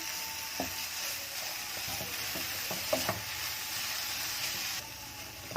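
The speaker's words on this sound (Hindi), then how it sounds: "तो आप इसे अच्छे तरीके से मिक्स कीजिए।" Fresh coconut barfi mixture stirred in a hot pan as it thickens, with steady frying sizzle and intermittent scraping strokes of a spoon against the pan, fairly quiet and without talking.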